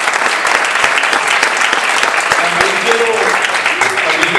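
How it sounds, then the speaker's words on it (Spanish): A church congregation applauds, with dense sustained clapping filling the room throughout and a voice speaking faintly underneath. "Denle un aplauso."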